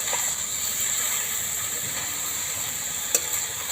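Soybeans and potatoes cooking with spices in a pan give a steady close hiss and sizzle, broken by a few faint scrapes of stirring.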